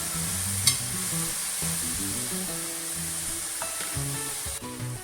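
Seasoning sizzles as it is stirred in a pot for a Jamaican steamed cabbage breakfast, a constant soft frying hiss with a spoon scraping faintly and low background music throughout.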